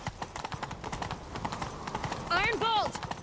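Horse hooves clip-clopping in The Witcher 3, a rapid steady gallop running under in-game voices, with a brief whinny near the end.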